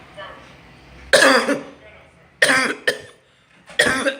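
Several harsh, close coughs come in bursts, a pair and then a few more, with short breathy pauses between them.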